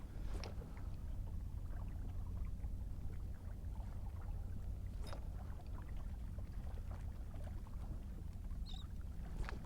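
Water lapping and splashing against the back of a fishing boat in murky water, with a steady wash of wind and water noise, small irregular slaps and trickles throughout, close by.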